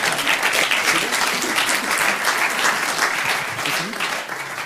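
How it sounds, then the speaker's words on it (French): Lively audience applause at a French developer podcast live recording, steady dense clapping filling the room for several seconds before tapering slightly at the end. "On applaudit bien fort, monsieur Quiz."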